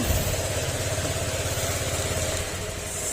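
A car engine idles steadily just after starting, low and continuous with a rhythmic mechanical throb, heard close by with no talking.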